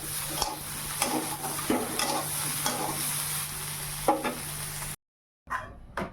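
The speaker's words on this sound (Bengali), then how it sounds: "কড়াতে তেল দিয়ে একটু হলুদ দিয়ে ফুলকপিটা দিয়ে দিলাম তো ভালো করে ঢেকে ঢেকে ভেজে নেব" Cauliflower frying in oil with turmeric in a wok, a close, constant sizzle broken by rhythmic stirring scrapes, cutting to silence before a short final burst.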